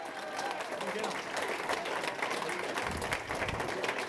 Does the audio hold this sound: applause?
yes